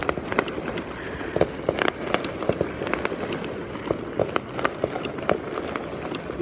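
Fireworks crack and pop in quick irregular bursts, several sharp bangs close together over a steady background rumble, with distant displays going off too.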